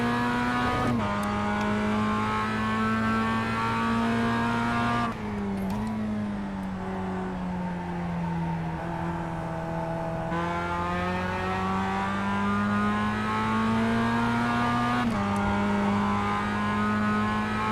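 Mazda race car engines in iRacing at the Hungaroring drone loudly and continuously, the revs dipping and climbing through gear changes as the car laps, with no talk over the sustained engine roar.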